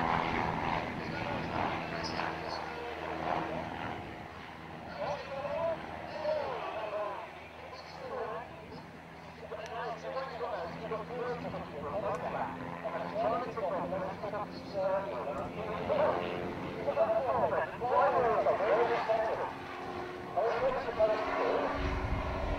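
A display aircraft flies at the Old Buckenham Airshow, coming down the runway and pulling up with wing wiggles. Its steady engine drone stays loud for over twenty seconds, mixed with outdoor crowd noise and a commentator talking over it.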